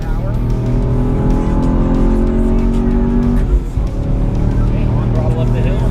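A Chevrolet Camaro SS 1LE lapping a race track, its engine roaring loud and steady with gear changes and brief tire squeal, while a person talks over the noise.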